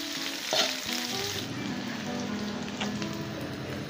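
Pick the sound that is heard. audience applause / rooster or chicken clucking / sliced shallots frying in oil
sliced shallots frying in oil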